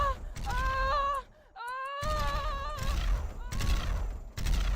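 Gunfire and combat effects from the space battle game Rimworld: bursts of rapid shots and harsh blasts come in clusters between brief pauses, close and loud, mixed with wailing tonal game sounds.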